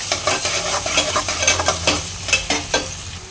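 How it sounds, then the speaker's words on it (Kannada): Green chillies fry in a hot pan for a bean palya, a close, steady sizzle broken by brisk, regular scrapes and taps of a stirring spoon. "ಇದಕ್ಕೆ ಹಸಿಮೆಣ್ಸಿನ್ಕಾಯಿ ಹಾಕ್ಕೊತಾ ಇದ್ದೀನಿ"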